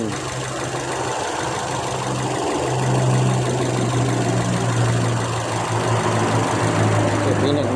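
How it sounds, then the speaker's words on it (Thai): A 2007 Toyota Vios engine idles roughly with one cylinder's fuel cut by a scan tool, an uneven, shaking rumble and low knocking pulses, steady and close throughout. "เครื่องยนต์จะสั่นนะครับ"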